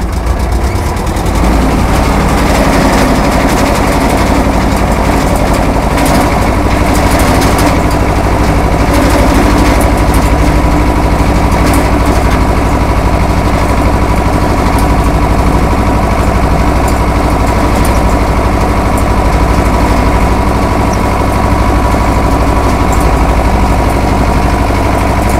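A farm vehicle's engine roars loud and continuous as it pulls off in first gear at the start of a potato harvest, with a dense steady drone throughout, very close.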